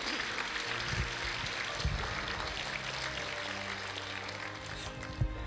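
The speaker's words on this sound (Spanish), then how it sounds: "Denle una ofrenda de palmas fuerte a nuestro Dios." Church congregation applauding as an offering of praise to God, a steady, dense wash of clapping filling the room at moderate loudness, with a few louder bursts near the end.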